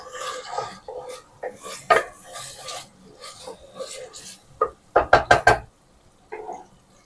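Ginger garlic paste frying in a pan for biryani, heard as close, irregular scraping and rubbing strokes of a spoon against the pan, ending in a quick cluster of sharp, louder scrapes.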